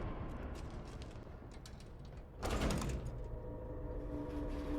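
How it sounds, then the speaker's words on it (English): A heavy door opening in the game Resident Evil Village, a sudden scraping, rumbling burst midway that settles into a low resonant hum, close and fairly loud against a quiet background with no talk. "As soon as we try to open this door"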